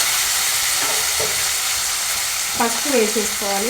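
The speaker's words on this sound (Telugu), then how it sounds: "జింజర్ గార్లిక్ పేస్ట్ కూడా 1 నిమిషం ఫ్రై అవ్వాలి." Ginger garlic paste sizzles steadily in a pan while a tomato egg curry is being made. A voice speaks over the frying near the end.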